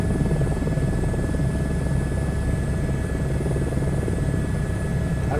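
Helicopter engine and rotor in Microsoft Flight Simulator 2024, a steady, loud, continuous drone with a low thumping rumble and faint high whine, unbroken throughout, with no talking.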